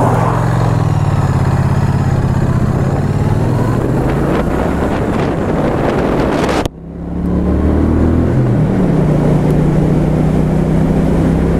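A 2016 Triumph Street Twin 900cc motorcycle runs on the road, its engine droning loud and close under heavy wind rush, with a brief dip midway before the engine note climbs again.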